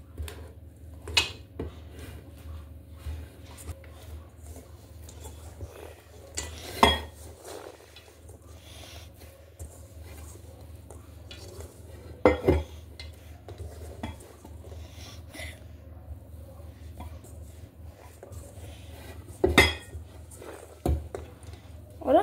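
A utensil stirs chopped couverture chocolate into soft cookie dough in a bowl, with sparse clinks and scrapes against the dish scattered over a quiet background.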